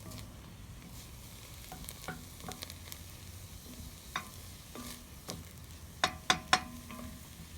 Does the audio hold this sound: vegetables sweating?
yes